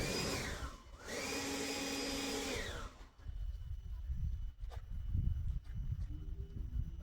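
A vacuum cleaner runs close by inside a 1995 Mercedes E300, whining steadily for about three seconds. It cuts off, leaving quieter rustling and handling noises.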